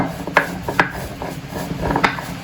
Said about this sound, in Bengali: তাই আমি এই ভর্তাটা শিলে বেটেই করব।